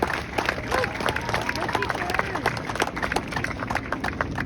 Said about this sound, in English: let's give all the parents, the teachers, and everyone who's helped make this whole year happen a big round of applause